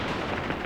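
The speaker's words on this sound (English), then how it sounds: "Here comes the hand grenade." Hand grenade explosion in the war strategy game Graviteam Tactics, a brief loud broadband blast filling the whole clip with dense rumbling noise.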